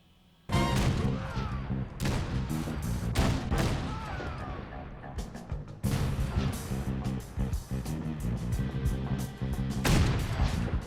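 Heavy sniper rifle shots from a hero shooter video game, several loud booming reports spaced a few seconds apart, each followed by a long echoing tail and mechanical clatter, with no talking.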